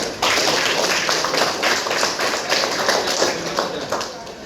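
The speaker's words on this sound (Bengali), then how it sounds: "তার লাগে সবে একবার হাত তালি দেও" A classroom audience claps together at a prize-giving for a student's honesty, a dense, steady patter of many hands close by that carries through the whole stretch without talk.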